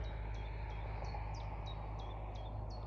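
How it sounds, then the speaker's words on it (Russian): Birds sing in the countryside beside a fishing spot, a regular series of short chirps repeating about every third of a second over a steady low background hum. "Птички поют."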